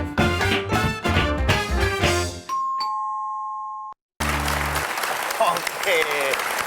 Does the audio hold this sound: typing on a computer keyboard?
no